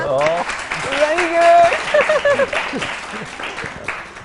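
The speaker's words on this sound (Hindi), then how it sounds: "मिकाल के लिए तालियां।" Studio audience applause on a Pakistani morning talk show, a soft sustained patter of clapping running beneath voices that speak and exclaim over it.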